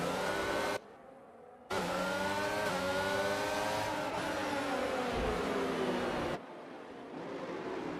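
Race cars from a racing video game roar around the Saudi Arabia Grand Prix track, a loud sustained engine whine rising and shifting in pitch, with two brief drops in level.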